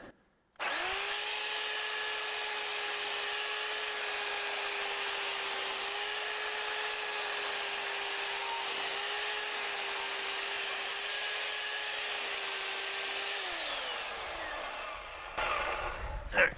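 Corded electric chainsaw used for carving raw wood stock, its motor whining steadily at a constant high pitch for about thirteen seconds before winding down, followed by a few faint clunks.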